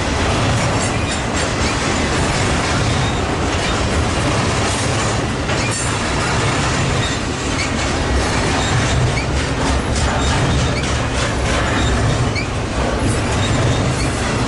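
The 777 train passes at Commerce with a loud, continuous rumble of rail cars, rhythmic clickety-clack over the joints and occasional squealing wheels, filling the whole stretch without letup.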